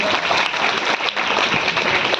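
A roomful of listeners at a problem-solving talk in Prayagraj claps loudly for a child, the applause dense and close, filling the short stretch without a break.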